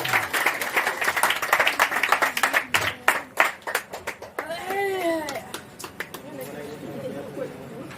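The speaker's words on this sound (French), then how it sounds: "Vos applaudissements, s'il vous plaît." Audience applause at a student association gathering: sharp, uneven clapping from a smaller group that thins out into scattered claps, while voices and cheering rise under it toward the end.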